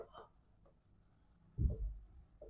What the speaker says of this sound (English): I will write the definition.